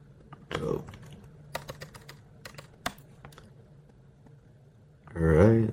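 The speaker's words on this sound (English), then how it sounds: "let's type Ryan again" Quiet clicks and taps of typing on a computer keyboard in short irregular bursts, faint and close, with brief speech before and after.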